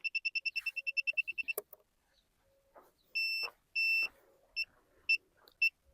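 A rapid run of about a dozen short, high electronic beeps from a groundwater detector, then several longer, separate beeps after a pause, close and clear in a quiet room.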